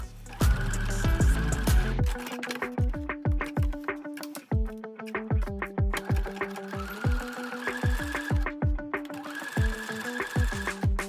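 A sewing machine runs in quick, rhythmic bursts of close, mechanical stitching as it sews the seams of a fabric belt bag, pausing briefly between runs.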